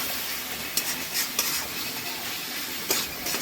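Mutton curry spices sautéing in a pot for a red-gravy goat curry, giving a steady close sizzle with a few sharp scrapes of stirring against the pot, with no voices.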